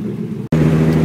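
Toyota Supra engine droning steadily while the car is driven, a loud, low, continuous hum that breaks off for an instant midway and then resumes.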